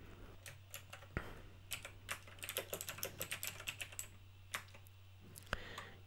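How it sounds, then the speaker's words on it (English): Someone types on a mechanical keyboard, with quick, crisp key clicks in irregular bursts and a couple of sharper clacks, close and clear over a low steady hum. "Man, I love the sound of this keyboard."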